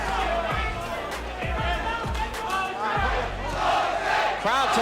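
Boxing arena crowd chanting the name Jose in a loud, rhythmic, repeated roar that fills the hall, with a commentator's voice talking on top.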